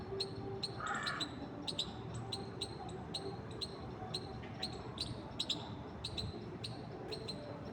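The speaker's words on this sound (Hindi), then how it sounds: "कितनी सुंदर आवाज़ आ रही है, वो दिख रही है चिड़िया।" Repeated short high bird chirps outdoors, spaced irregularly over steady background noise, fairly faint and distant.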